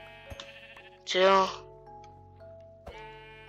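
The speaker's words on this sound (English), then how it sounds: "Aw, sheep" A Minecraft sheep bleats once, loud and wavering, over background game music and chimes, with a person speaking briefly nearby.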